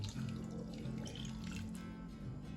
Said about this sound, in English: I'm gonna pour 2 more cups of water to that